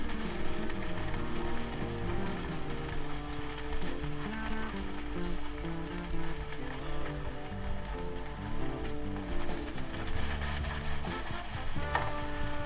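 Vegetable fried rice being stirred and turned in a pan, a continuous crackling sizzle like steady rain with faint scraping and clinking of the utensil throughout.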